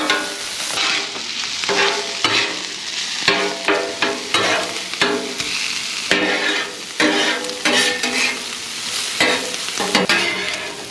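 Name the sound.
sausage searing on Blackstone griddle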